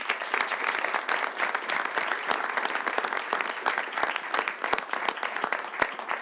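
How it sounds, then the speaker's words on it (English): Applause from an audience at a city council meeting recognition ceremony for award recipients, a steady dense clapping that fills the room for several seconds without pause. "let's give one more big round of applause to all the recipients"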